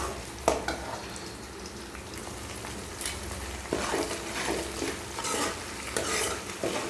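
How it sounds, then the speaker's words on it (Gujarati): Chilies and onions fry in hot oil for a potato dish, making a steady sizzle broken by repeated spoon scrapes and stirring knocks against the pan, close and fairly loud, with no talking. "અને મરચાં, ડુંગળી નાખીશું। આમને થોડી વાર તેલમાં શેકાવા દઈશું આપણે।"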